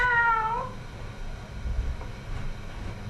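A cat meows in a film scene, a clear drawn-out cry at the start that fades within a second, leaving a low rumbling background with no speech.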